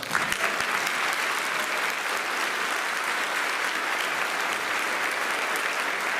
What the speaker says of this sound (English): So in our baritone section, Patrick Nearing, give him a nice round of applause.